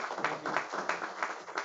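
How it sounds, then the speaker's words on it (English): Audience clapping for a speaker at a sailing seminar, a brief, light round of applause from a modest crowd, moderately distant with no voices. "Save the big applause for the end"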